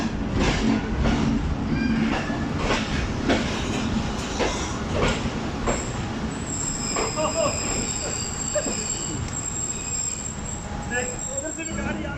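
The Fareed Express passenger train pulls into a platform at Lodhran Junction, with steady rolling rumble, rhythmic wheel clatter and high metallic squeals building toward the end, voices talking over it.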